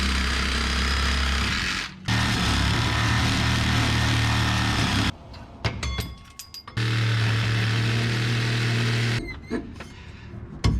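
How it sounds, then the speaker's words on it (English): A Sawzall reciprocating saw cuts through old rear shocks on an old U-Haul truck being made into a work truck. It gives a loud, steady buzzing rasp that stops briefly twice, with clatter in the longer gap. "We're gonna use the old Sawzall for expedited removal."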